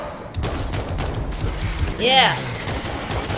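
Rapid gunfire bursts in World War Z, a zombie shooter, crackling under steady game ambience with a brief whooshing effect, and a voice speaks a word over it.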